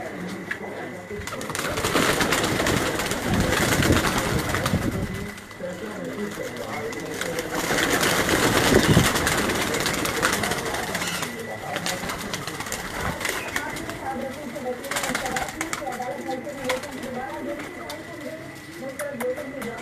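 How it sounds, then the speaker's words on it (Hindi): Kasuri pigeons in a loft cage give low, repeated cooing calls amid a dense flock chorus, with someone talking over much of it. "यहाँ भी जो है ज़्यादातर आपको कसूरी, इनमें बहुत अच्छे कबूतर"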